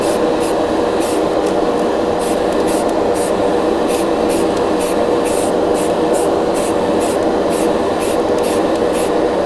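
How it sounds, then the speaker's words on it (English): Aerosol spray paint hissing onto a scratched surface in steady close bursts, each pulse of spray starting and stopping in a loose repeating rhythm, with no talking. "stop going crazy over the few scratches that are there and just start painting on here"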